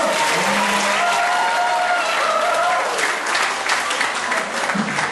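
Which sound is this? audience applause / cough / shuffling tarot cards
audience applause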